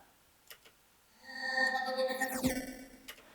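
A looped vocal shot, soloed and processed with reverb and a bit crusher, rises after a quiet start into a sustained, buzzy harmonic phrase lasting about two seconds before it fades to a faint tail.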